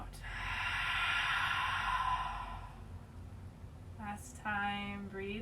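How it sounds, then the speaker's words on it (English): A long, deep exhale during a gentle breathing exercise, a soft airy rush up close that fades, followed by a brief breathy sound and a voice at the end. "Bigger breath out."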